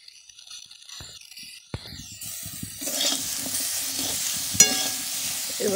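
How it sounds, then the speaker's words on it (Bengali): Pui shak greens frying and being stirred in a pan, a quiet start giving way to steady sizzling with scraping spatula strokes and one sharp clink of utensil on metal. "এবার একটু নাড়াচাড়া করে নেবো।"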